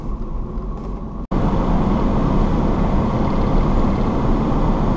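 A 1986 Jaguar XJ-SC V12 cruises along a road, with a steady low engine and road rumble heard from inside the car after a brief cut.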